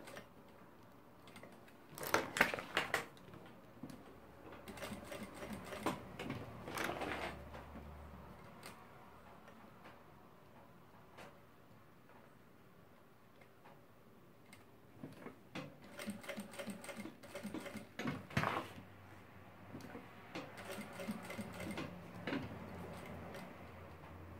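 A sewing machine stitches a bag strap, opening with a short backstitch, then running in uneven bursts of close, mechanical rapid ticking separated by pauses, moderately loud with no talk.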